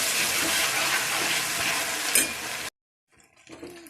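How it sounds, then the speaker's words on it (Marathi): Ginger garlic paste cooking in hot oil, a dense close sizzle that stops abruptly, followed by quiet faint clinks. "याला मस्त छानपैकी छान शिजू द्यायचं तेलामध्ये अदरक लसणाच्या पेस्टला"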